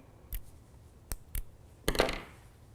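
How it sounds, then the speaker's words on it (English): A small slit is cut into T-shirt yarn with scissors: several crisp, close snips at irregular intervals, the last one longer and more rasping, with no voices. "I'm just going to cut that little slit."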